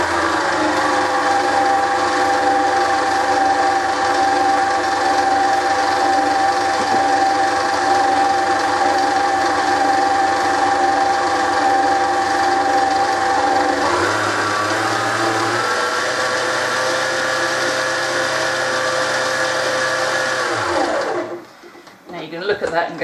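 An electric mixer runs steadily, beating an egg into softened room-temperature butter for cookie press dough, a loud continuous whir that shifts pitch partway through as the batter changes, then cuts off near the end.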